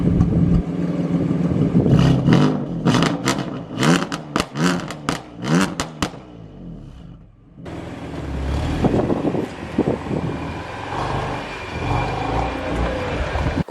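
BMW M2 Competition engine cranking and firing up, then revving in several sharp bursts before a brief pause and a steady, loud warm-up idle with a rough rumble, heard close by without talk.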